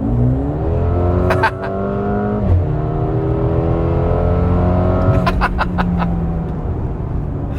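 A 2022 Mercedes-AMG GLA 35 engine revs hard in sport mode, pitch climbing through gears with sharp throttle blips and crackles, loud and close throughout.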